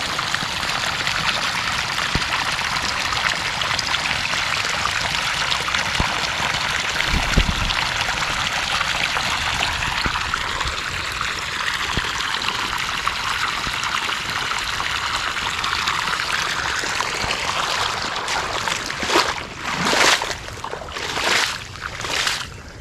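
Water trickles slowly across parched, dry farm soil in a steady, gentle flowing gurgle, with a few louder splashy bursts near the end and no speech.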